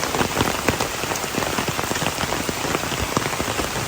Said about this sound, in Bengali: এখন প্রচন্ড বৃষ্টি হচ্ছে